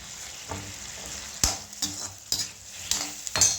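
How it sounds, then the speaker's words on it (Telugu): Tomatoes, tamarind and cumin fry in a pan for a tomato chutney, with a constant close sizzle broken by regular sharp spoon scrapes about every half second to second as the mixture is stirred. "చింతపండు టమాటా వేగాలి."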